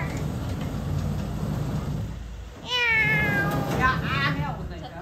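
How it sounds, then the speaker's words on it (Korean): A cat at a football practice ground gives a couple of clear, fairly close meows over steady outdoor background noise. "우리 파커 연습장의 고양이 어디가?"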